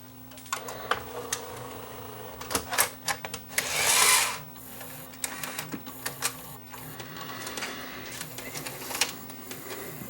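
Sony EVS7000 tape machine with its transport running, giving a steady mechanical hum with whirring, clicking and a brief louder rushing burst, fairly close and without talk.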